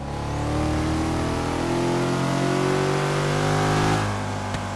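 A Porsche Panamera Turbo in Forza Horizon 3 accelerates hard in the game, its engine note rising steadily and loudly through the revs, then dropping off near the end with no voices over it.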